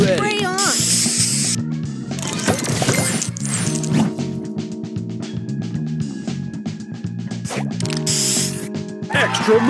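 Spray booster effect from the Match Masters match-three puzzle game: repeated hissing spray bursts over busy game music, jingles and an announcer-style voice.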